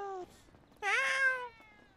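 A person gives two meow-like vocal calls imitating a cat, a short one then a longer rising-falling one, close and clear with a pause between.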